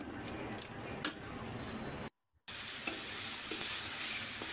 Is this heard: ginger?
yes